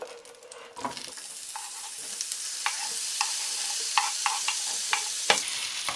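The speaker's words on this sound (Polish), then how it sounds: "Na rozgrzane masło wrzucam kurki." Chanterelle mushrooms tossed into hot butter set off a steady, close sizzle, a dense hiss broken by sharp pops and crackles that recur every second or so.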